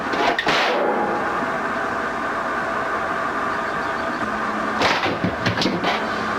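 A gunshot in a movie scene as another Ron is shot: a sharp broadband burst near the start, then a sustained rumbling din, with a second cluster of crackling hits toward the end.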